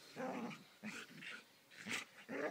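An agitated dog in a garden growls in several short, close bursts separated by brief pauses, the rough snarls fairly loud and alone.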